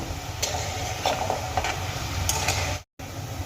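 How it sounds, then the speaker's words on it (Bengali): Gulab jamun dough balls frying in oil, a steady close sizzle with light bubbling and occasional stirring clinks, briefly cutting out near the end. "আরও কিছুক্ষণ আমি ভেজে নেব তারপর তেল জড়িয়ে একটা পাত্রে তুলে নেব"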